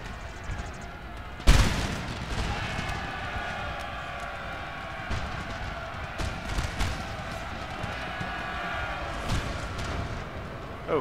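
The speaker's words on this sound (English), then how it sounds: "Oh, cannons." Cannon fire in a Napoleon: Total War battle (Darthmod) starts with one sharp, loud boom. A steady din of musketry and scattered shots follows, with faint voices in the background.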